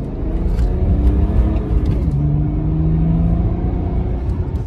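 BMW 330d diesel engine idling after start-up, a loud low rumbling drone with a steady hum that rises slightly midway, continuous and close.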